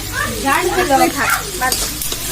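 Meat cooks in a pan with a steady close sizzle and stirring, while voices talk over it.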